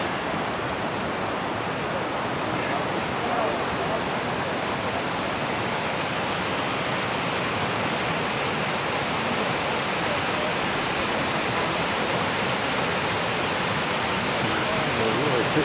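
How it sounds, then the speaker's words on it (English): Rapids on a high mountain stream in Little Lakes Valley, John Muir Wilderness, give a steady, close, full rushing roar of water that holds level throughout with no break. "Pretty good rapids."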